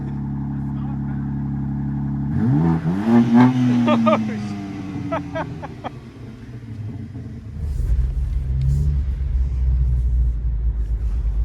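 A 2025 BMW M4 Competition xDrive convertible (G83) idles, then its engine revs hard with a sharp rising bark and crackle, drops back, and settles into a deeper rumble; a person exclaims during the rev.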